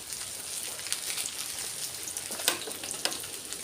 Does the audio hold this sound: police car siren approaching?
no